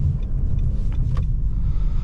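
A Nissan Qashqai rolls along an unplowed snowy road during a snowstorm with a low, steady engine rumble and road noise, close by, without any voices.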